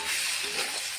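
Fried cabbage with a light sprinkle of sugar being stirred in a pan, a soft, steady sizzle with faint scraping from the stirring, close and continuous with no voices.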